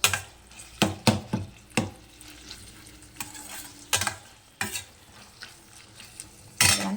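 Snail gravy stirred and sautéed in a pan, with a spoon scraping and knocking in repeated close strokes over a light, steady sizzle.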